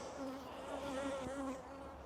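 Steady, close buzzing of many honey bees around an open hive, a continuous droning hum with slight rises and falls and no talking.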